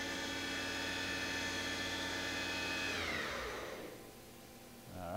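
A YCM vertical machining center spindle spins at about 4,000 RPM, a steady loud whine with a rich harmonic hum that glides down and fades as it winds down, then rises briefly again at the end.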